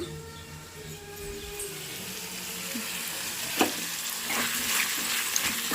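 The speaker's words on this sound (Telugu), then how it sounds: "ఫ్రై అవుతా ఉన్నాయి" Vadas (garelu) made from poha, frying in hot oil, give a steady close sizzle with bubbling crackle that grows slightly louder toward the end, with no voices over it.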